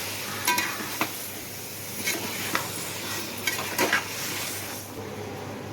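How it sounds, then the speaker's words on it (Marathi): Mutton is stirred in a pot with onion, garlic and ginger, sizzling close and steady, while a spoon scrapes and clinks against the metal at irregular intervals. "मटण टाकल्यानंतर ना मटण पण आपण व्यवस्थित मिक्स करून द्यायचे"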